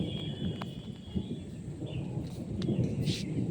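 A low, rumbling roll of thunder swells gradually, with scattered faint chirps and clicks on top and no speech.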